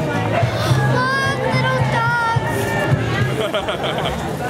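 Dense festival crowd at Bele Chere 2011, a steady outdoor babble of many voices with children among them, nearby talk layered over the hubbub and a few sharp knocks.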